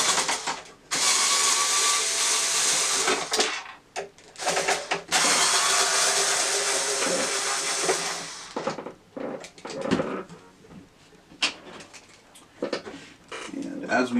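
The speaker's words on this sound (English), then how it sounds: "we'll go ahead and remove our cover screws for the machine" Cover screws being backed out of a Janome 2206 sewing machine, probably with a power screwdriver, in repeated loud whirring, ratcheting bursts during the first eight seconds, then sparser, quieter clicks and handling noises on the metal chassis.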